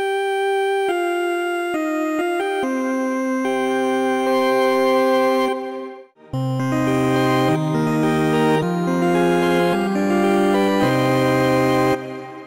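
A synthesizer plays sustained tones and then a busier chord passage, loud and alone, with tape distortion, tape delay and heavy reverb smearing the notes into long, washing tails.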